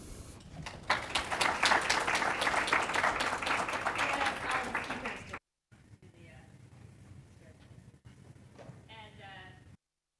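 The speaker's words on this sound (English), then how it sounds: "Can we get another round of applause" Loud, dense applause from a conference audience for speakers on pandemic preparedness, sustained for several seconds, then fading into quieter room noise with a few scattered sounds.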